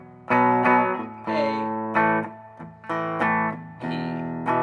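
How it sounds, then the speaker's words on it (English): Electric guitar strumming chords with light distortion in a rock rhythm pattern, each chord ringing out loud and sustained before the next, played alone. "Again, I put a little bit of distortion on"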